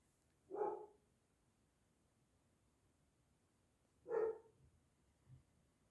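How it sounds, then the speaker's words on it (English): A dog barks twice at a distance, each short bark standing alone against a quiet room, with a fainter third yelp trailing after the second. "Dog's going mad."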